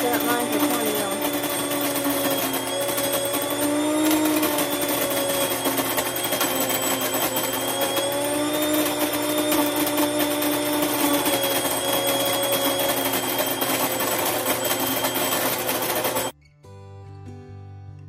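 A grain mill grinds popcorn kernels into cornmeal with a steady, loud mechanical whir and rattle that runs unbroken for about sixteen seconds, then stops abruptly and leaves a quieter hum.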